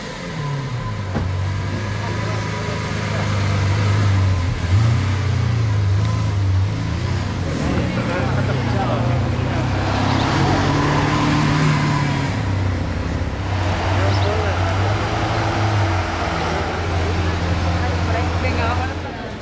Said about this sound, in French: Il bouge l'Aventador S, il a les valves ouvertes en plus.